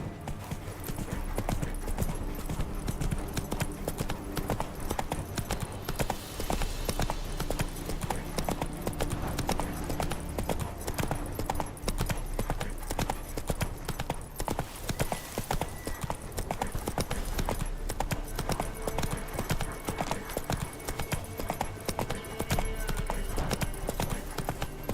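Roach the horse gallops in The Witcher 3: Wild Hunt, a steady, loud clip-clop of hooves running throughout with an occasional whinny, layered over game music and ambience.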